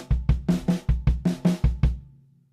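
A drummer at a live clinic plays a linear funk-fusion groove in groupings of four, about ten crisp kick, snare and tom strikes in an even rhythm, close and clear, then a short decay.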